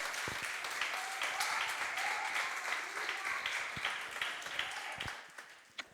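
A church congregation applauding during a worship service, sustained clapping that holds steady before thinning toward the end, with a stray loud clap at the close.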